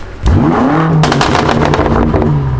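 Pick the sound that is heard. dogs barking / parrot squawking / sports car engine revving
sports car engine revving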